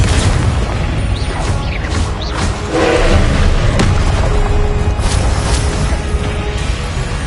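A loud, sustained blast from a Confringo fire spell in a wizard video game, a dense rumbling boom that fills the whole stretch with continuous crackling roar and no pause.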